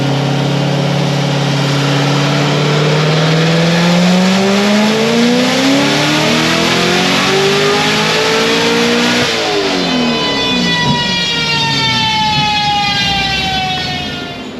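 A boosted Chevrolet Corvette C6 ZR1 on a full-power pull roars loudly as engine pitch sweeps steadily upward through the revs, then drops and climbs again on a shift, with no talking over it.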